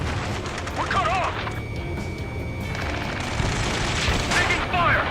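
Gunfire in a sci-fi shooter video game mission near a space elevator, a dense mix of rapid shots and crashing impacts at close range, under urgent shouted radio voices and electronic chirps.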